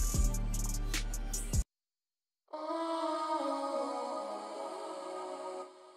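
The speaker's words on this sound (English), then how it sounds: "we got this vocal from Arcade, from the Distant Voices Bank, from Red Lotus" A sampled vocal from the Arcade Distant Voices bank, Red Lotus, plays as an airy, sustained sung phrase with a short chopped section first, a brief gap of silence, then a long smooth held tone that fades at the end.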